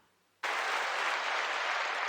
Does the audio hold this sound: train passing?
no